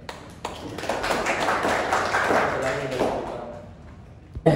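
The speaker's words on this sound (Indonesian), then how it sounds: "Beri tepuk tangan ya." A classroom of students clapping during a biology lesson, a fairly brief burst of scattered applause that swells and then fades, ending with a loud thump.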